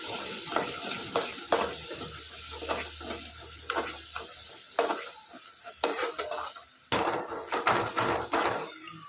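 A spiced masala of onion, garlic, mutton masala, coriander powder and asafoetida fries in oil for a goat mutton curry, with a soft sizzle under repeated clattering spatula strokes and metal pan knocks in an uneven rhythm, with nobody speaking.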